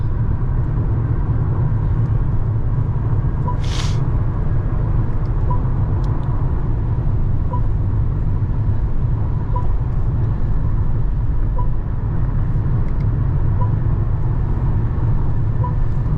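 Steady cabin noise of a Mercedes-Benz GLA200 cruising on the highway at about 130 km/h and 2200 RPM: a continuous, even rumble of road and engine noise, close and unbroken, with no talk.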